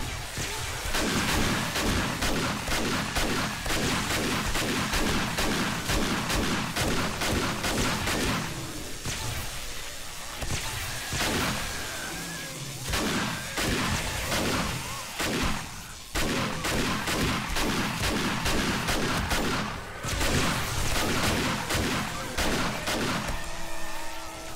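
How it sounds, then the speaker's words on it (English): Shotgun blasts during a zombie horde night in 7 Days to Die with the Darkness Falls mod, loud rapid repeated shots in long continuous runs, broken by brief lulls around reloads, with constant heavy chaos throughout. "I'm liking this shotgun now"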